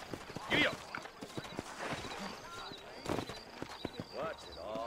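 Horse hooves clop along in the video game Red Dead Redemption, a rhythmic patter of footfalls heard beneath voices talking throughout.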